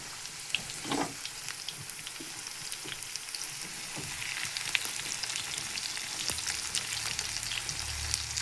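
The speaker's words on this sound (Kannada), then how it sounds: "ಈ ಥರ ಕಲರ್ ಆಗೋವರೆಗೂ ಫ್ರೈ ಮಾಡ್ಬೇಕ್ರಿ" Okra fries in hot oil in a pan, producing a steady, fine sizzle with soft crackles and the occasional scrape of stirring, close and continuous throughout.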